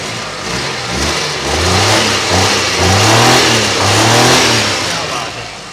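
A 1981 Suzuki FX car engine revs up and down in a steady drone, rising and falling in pitch, with a faint voice in the background.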